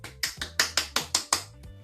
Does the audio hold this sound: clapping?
yes